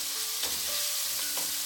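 Pork being sautéed with liquid seasoning for vegetable lumpia crackles loudly and steadily in a pan, with a couple of brief stirring knocks and no talk.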